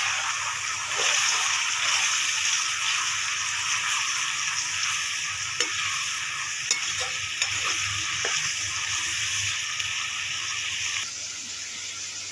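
Chopped tomatoes fry in a pan while being stirred, giving a steady, close sizzle with soft scraping and stirring strokes throughout, easing off slightly near the end.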